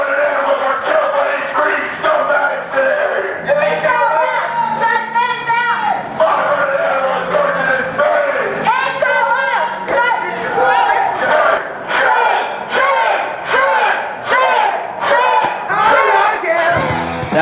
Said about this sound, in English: That's the sound of animal rights activists calling out vivisectors